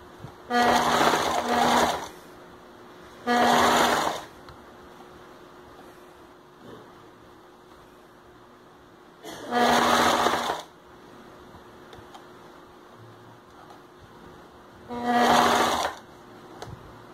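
A sewing machine stitches a plush men's Captain America slipper in four short, loud whirring bursts separated by quiet pauses.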